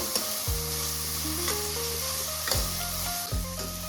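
Onion and tomato fry in a pan for chicken biryani, a continuous crackling sizzle that runs steadily beneath a loud backing melody of sustained musical notes, with no one speaking.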